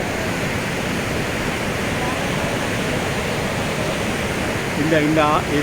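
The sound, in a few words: Niagara Falls water roaring at night, US side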